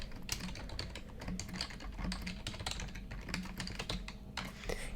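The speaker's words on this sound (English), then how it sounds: "I'm going to type out" Quiet, steady typing on a computer keyboard, a rapid run of soft clicks and taps with small pauses, with no talking.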